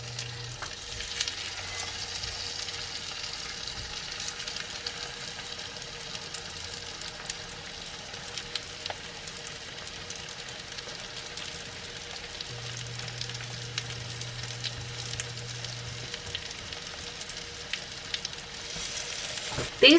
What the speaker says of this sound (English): So I'm going to go and put my patties in,